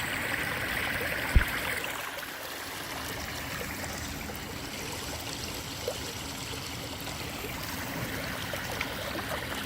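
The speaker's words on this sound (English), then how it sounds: "See, the water goes over like that, just go over" Flood water on a residential street pours over drain covers in a steady, moderate rushing and trickling wash, continuous and alone, with a faint knock or two.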